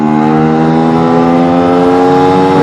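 A newly built two-stroke engine being run in is revved hard with the throttle pulled. It makes a loud, close, continuous buzzing drone that holds steady and climbs slightly at the end.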